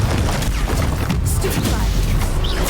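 Confringo spell blasts in Hogwarts Legacy combat go off as heavy booms and crashing impacts over a constant roar of battle noise, with a sharp burst near the middle.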